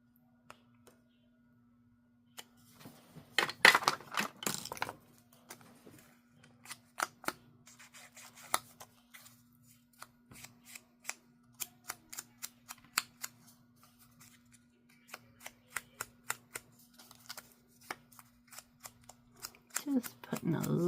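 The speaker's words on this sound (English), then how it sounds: "Let's go ahead and cut the corners like I did on the other one." Scissors snip the corners of a paper junk-journal tag, giving a close, quick run of sharp clicks and crisp cuts with soft paper rustling between them.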